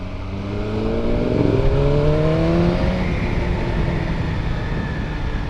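A 2025 BMW M 1000 R Competition hyper naked motorcycle at full throttle, its engine note climbing in a loud, sustained, close-up roar with rising pitch as it accelerates hard.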